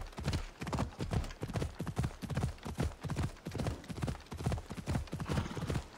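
Phobos, a horse in Assassin's Creed Odyssey, gallops with steady, rapid hoofbeats in a continuous clip-clop rhythm, close and fairly loud, with no talk over it.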